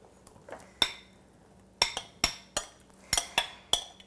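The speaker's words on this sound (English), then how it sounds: "After your peaches are all chopped up, add them to your chia and coconut milk mixture." Chopped peaches being added to a chia and coconut milk mixture for homemade popsicles, heard as a series of sharp, close clinks of a utensil against a bowl, spaced irregularly in a quiet room.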